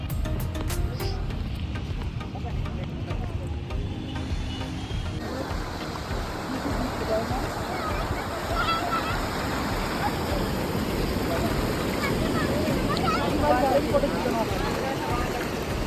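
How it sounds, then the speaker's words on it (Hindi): Ocean waves at Puri beach roll and wash in a continuous broad roar, with gusts of wind buffeting close by and no clear individual breaks. "इतना सुंदर लग रहा है लहरों को देखते हुए क्लोजली इतना।"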